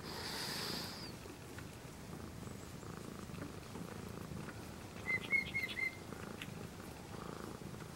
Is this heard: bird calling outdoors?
yes